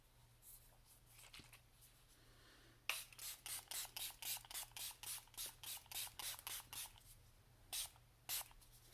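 Milani Make It Last setting spray misted onto a face in a rapid series of about a dozen short, close pump bursts, then two more after a brief pause, with a low steady hum underneath.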